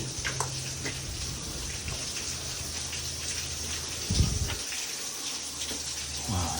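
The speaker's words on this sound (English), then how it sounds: "there's a lovely little waterfall" A small waterfall splashes inside a Cornish mine, its close, continuous patter and trickle echoing, with a low hum underneath and a brief thump near the middle.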